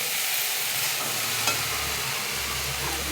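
Spices with salt, turmeric, coriander and cumin being sautéed in a pan for a pumpkin and banana-stem curry, a steady low sizzle with faint stirring scrapes throughout, close and moderately loud, no talking.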